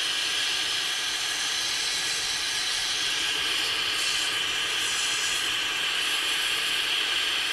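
A torch with a drilled-out tip melting metal for sand casting, a steady roaring hiss throughout, loud and unbroken.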